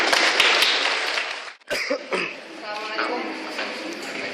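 Broadband crowd clapping fills the start, then breaks off briefly before lighter applause and murmuring voices continue.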